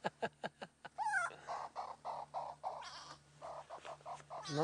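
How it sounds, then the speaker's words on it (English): A grey go-away bird gives repeated nasal, drawn-out calls on a safari drive, mixed with short sharp clicks and other bird sounds over a steady low engine hum. "So this grey go-away bird, you hear that sound? Sounds like he's saying, go away"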